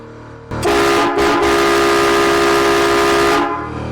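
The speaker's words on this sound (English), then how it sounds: "does the air horn work?" A loud, close truck air horn, fed by a Vixen Air 200 PSI compressor, blasts in two bursts, a short one followed by a sustained tonal blare lasting about two seconds.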